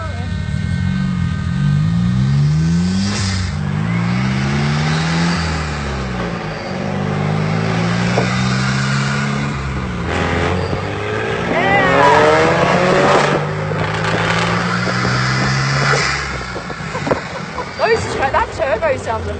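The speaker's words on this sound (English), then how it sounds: "That turbo sounds amazing," Vuhl supercar's turbo engine driving through Mexico City streets, loud and close, with rising and falling revs and gear changes across the run, turbo whine and whoosh on top, and a person talking over it at times.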